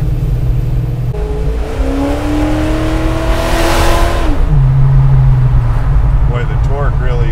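Big-block 454 Chevelle V8 engine, built to roughly 700 horsepower, pulls hard under acceleration, a loud close rising roar that drops as it shifts and then climbs again, with people talking over it.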